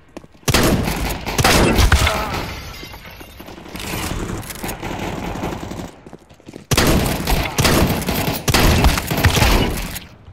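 Rapid bursts of automatic gunfire from Counter-Strike 2 deathmatch play on the Vertigo and Mirage maps, loud clustered volleys with short gaps and a brief near-silent pause before more heavy firing.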